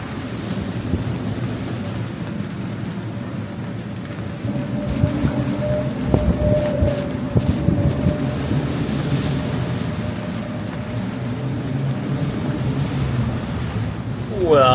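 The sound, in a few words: rainstorm with thunder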